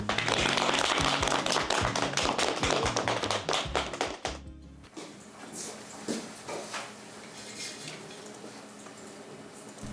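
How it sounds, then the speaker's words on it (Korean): Firefighters at a fire station in Chungju clap together to close their morning meeting, a dense burst of loud group applause lasting about four seconds before giving way to quieter office shuffling and scattered taps. "박수 치면서 끝내도록 하겠습니다."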